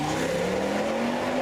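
Audi RS6 estate engine revving, a steady, droning rev heard up close for a brief moment with no voices over it.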